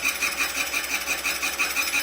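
A school milling machine's motor runs while cutting a metal workpiece, giving a steady, loud mechanical whine with a faint rhythmic pulsing and no pauses.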